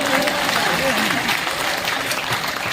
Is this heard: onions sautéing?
no